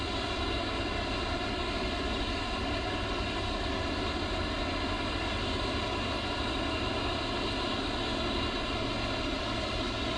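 An A-10C Warthog's engines start up in a flight simulator game, a loud, steady, droning turbine roar with layered whine that holds constant throughout, with no voices.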